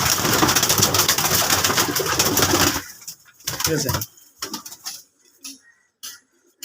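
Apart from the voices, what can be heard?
pigeons cooing in a loft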